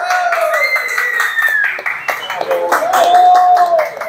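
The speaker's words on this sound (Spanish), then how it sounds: "Un aplauso, pues, señores" A crowd claps for the winner of a raffle for a Lifan 150 cc mototaxi in Tarapoto. The applause is scattered but lively, with voices and a tonal, whistle-like sound rising over it.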